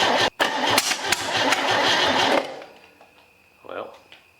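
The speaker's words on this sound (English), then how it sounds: "this thing's backfiring out of here like it's out of time still" An old Chevy 250 straight-six, left parked for 17 years and running out of time, cranks and fires roughly with sharp pops and bangs before cutting off, followed by a brief murmur of voices.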